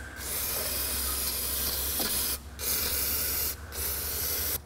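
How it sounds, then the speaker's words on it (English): Aerosol brake cleaner sprayed onto a car engine bay to clean up spilled power steering fluid: a loud, steady close-up hiss in two long bursts, each cut by a short pause, with no talk. "I have a little bit of brake cleaner here that I'm going to use to clean the area up where it's spilled."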